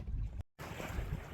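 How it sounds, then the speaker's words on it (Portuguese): A home-built sailboat under full sail in fairly light wind, a steady wash of wind noise and water rushing along the hull, briefly cutting out to silence before resuming, with no speech. "agora a gente está dando uma navegada com um vento mais ou menos fraco"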